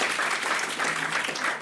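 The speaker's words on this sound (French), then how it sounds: "c'est surtout lui qu'il faut applaudir" Conference audience applauding in a hall, a dense, steady wash of clapping at full strength throughout, with no voices over it.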